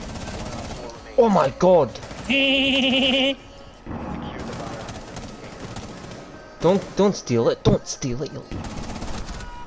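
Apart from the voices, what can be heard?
gunfire in a video game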